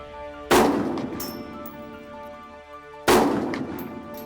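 Two loud gunshots fired at a target during a hunting-style range drill, each a sharp blast followed by a long rolling echo, spaced about two and a half seconds apart with no talk.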